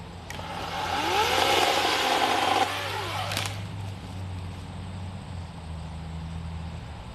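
TORO 60v Flex Force battery chainsaw cutting through very dry wood, a loud rising whine for a couple of seconds that cuts off abruptly, followed by a quieter motor hum, close by with no speech.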